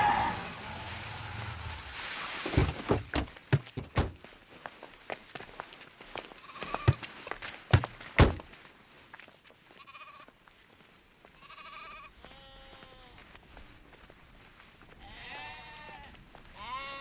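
Goats on a village farm bleating several times in the latter half, moderately close, after a stretch of sharp thuds and clatter from a dramatic film scene.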